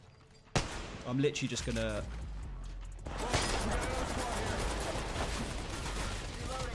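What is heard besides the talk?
gunfire in Apex Legends Mobile video game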